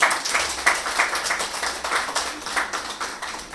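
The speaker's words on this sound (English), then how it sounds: "Give yourself a round of applause." A small room of real estate professionals at a mixer breaks into a short round of applause, with scattered claps ringing close and thinning out toward the end.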